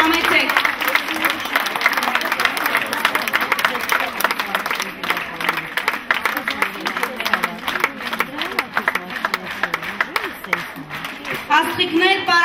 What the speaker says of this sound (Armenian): Ծափողություններով դիմահարթակ հրավիրենք մեր բարի խմբի ղեկավարներին պարգևատրման համար